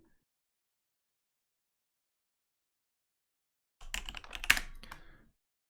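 A short, quick burst of typing on a computer keyboard, with close, crisp key clicks for about a second and a half after a long silence.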